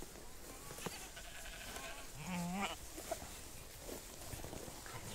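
Goats on a farm bleating as they approach, one clear wavering bleat standing out over a quiet outdoor background with faint shuffling steps and distant calls.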